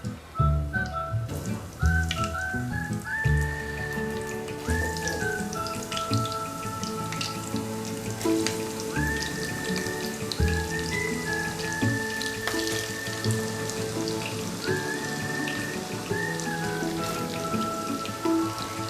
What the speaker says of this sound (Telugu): ఆయిల్ వేడైందండి. ఇప్పుడు మనం కాకరకాయ ముక్కలు వేసేసుకుందాం.